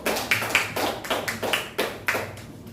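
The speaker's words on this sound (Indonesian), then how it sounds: "Kasih tepuk tangan sama temannya ibu." A classroom of students claps for classmates: a handful of uneven, separated clap bursts in loose rhythm, fairly close and moderately loud, with no talking.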